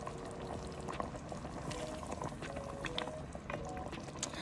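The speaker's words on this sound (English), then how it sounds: "Now that I'm sure that my palm oil is well heated, I added my blended peppers and onions and you stir." Blended peppers and onions stirring in hot palm oil, giving a continuous close bubbling, sputtering wash with soft liquid movement and no talking.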